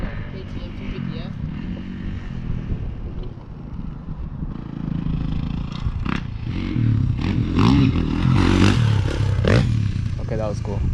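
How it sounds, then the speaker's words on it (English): A 450 motocross dirt bike runs on a Kaufman MX track with barely any throttle, its engine a smooth, steady drone with mild rises in pitch, heard under someone talking. "You hear the RPM, so I know this is a 450, but barely on the gas, super smooth everywhere."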